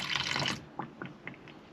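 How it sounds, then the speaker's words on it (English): Water is poured into caravan waste pipes, a short gush followed by a few gurgling drips and trickles, close and quiet with no talking. "just going to chuck some water through"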